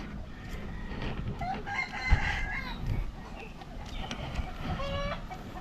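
Chickens cluck and a rooster crows outdoors on a hot day near a road, the calls fairly close over a rumbling background, with faint voices now and then.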